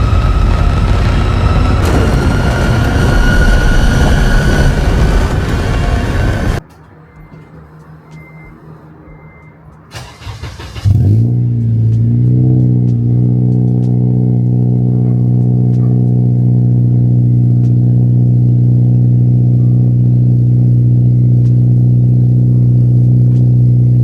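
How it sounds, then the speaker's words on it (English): An FG2 car's exhaust fires up loudly after a noisy stretch and a quiet pause, then settles into a deep, steady, droning idle heard close by with no talking. "Y'all want a sound clip of the exhaust?"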